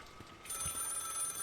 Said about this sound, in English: You hear the phone call.